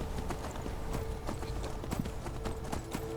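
A horse's hooves clip-clop at a brisk, steady trot in Skyrim, the repeated clops close and fairly even over a low background wash.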